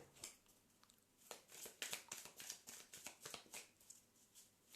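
Tarot cards shuffled by hand and drawn from the deck, a run of soft riffling flutters and quick slaps at close range, with no talk over them.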